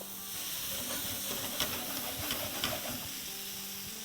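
Steam hisses steadily as the lid comes off a pan of tawa fish masala, a soft continuous hiss with a few faint clinks and sizzles, close and fairly quiet, with no talking.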